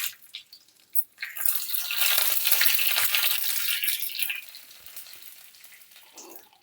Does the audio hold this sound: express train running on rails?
no